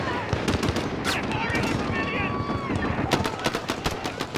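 Automatic AK rifle fitted with a drum magazine firing in Call of Duty: Modern Warfare, rapid loud bursts of gunfire with sharp cracks and game effects, while someone shouts and talks over the shooting.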